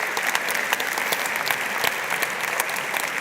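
An audience at a TEDx talk applauds a volunteer coming up on stage during a magic act, a dense, even wash of clapping from a large crowd that continues steadily throughout.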